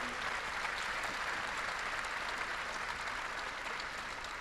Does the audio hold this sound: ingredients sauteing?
no